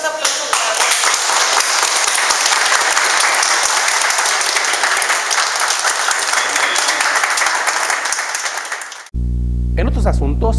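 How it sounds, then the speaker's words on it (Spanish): Strong, sustained applause from an audience during a news report, dense clapping at a loud steady level for about nine seconds before cutting off abruptly, followed by a brief stretch of a voice. "un fuerte aplauso para ellos"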